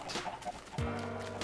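Chickens on a Minecraft chicken farm cluck in short, clipped bursts, several birds overlapping, under a steady bed of game sound and a low drone that comes in partway through.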